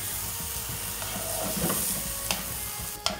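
Chicken pieces and corn fry in a hot pan with a steady loud sizzle, while a utensil stirs and scrapes the contents, adding occasional clinks near the end.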